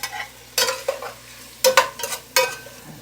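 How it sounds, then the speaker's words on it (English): Pork loin and smoked ham dropped into a hot pot, a few sharp bursts of sizzling and stirring scrapes with frying crackle settling between them. "I'm going to add my pork loin and my smoked ham."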